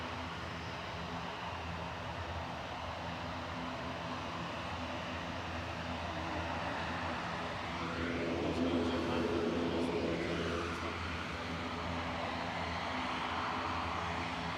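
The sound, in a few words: EasyJet Airbus A320 airliner arriving at Manchester Airport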